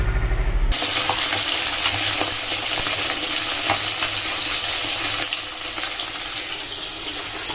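After a short musical note, chilli-powder-coated fish sizzles and spits loudly in hot oil in a kadai, a steady close crackle that eases slightly toward the end.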